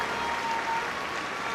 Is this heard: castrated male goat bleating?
no